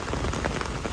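A downpour of heavy monsoon rain in rural Bangladesh, a dense, even wash of drops close by with no voices.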